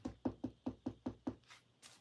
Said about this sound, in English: Knocking on wood.